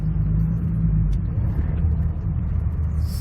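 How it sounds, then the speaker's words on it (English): Low engine rumble of a car idling and pulling out in a shopping mall parking lot in Plano, Texas, steady and fairly close for the whole stretch with no talk over it. "car's about to pull out."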